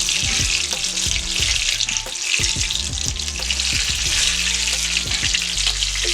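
Egg rolls made from Thanksgiving leftovers fry in a pan with a loud, constant crackling sizzle close by, plus a few faint clinks and no talk.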